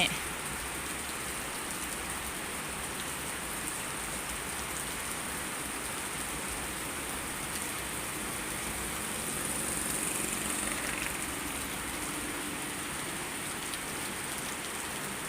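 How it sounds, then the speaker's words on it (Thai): Heavy rain pours down around a house, a dense, steady wash of noise that stays even from start to finish and swells slightly partway through, with no voices. "อีกวันหนึ่งที่ฝนตก"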